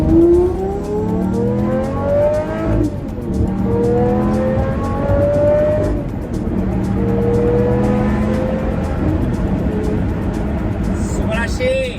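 A Lamborghini Murcielago's engine pulls hard on the road, loud rising howls climbing through several long gears with brief dips at each shift, while someone talks over it.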